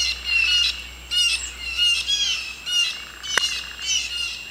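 Loud outdoor birds squawk in repeated harsh bursts, close and continuous, with a sharp click partway through and no talking.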